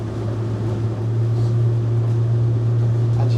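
A Nimbus C9 motorboat driven by a Mercury 300 hp V8 outboard runs up onto the plane at around 16 knots, giving a steady loud engine drone mixed with rushing water and wind.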